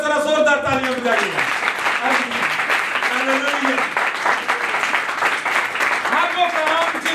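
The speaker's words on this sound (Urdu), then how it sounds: "پھر ذرا زوردار تالیاں بجائیے" A church congregation applauds loudly and steadily throughout, with a voice speaking over the clapping at times.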